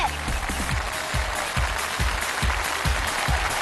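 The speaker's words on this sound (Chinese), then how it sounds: "让我们掌声欢迎李伟健" An audience at a Yue opera competition show in a studio applauding to welcome a guest, dense continuous clapping with rhythmic thumps underneath.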